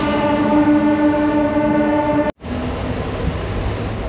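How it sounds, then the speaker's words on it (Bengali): Local train departing Santragachi station, a loud sustained horn-like tone over rumbling carriages that cuts off abruptly, followed by steady rolling rail noise as the train pulls away. "এই সাঁতরাগাছি থেকে আমাদের ট্রেন ছেড়ে বেরিয়ে যাচ্ছে।"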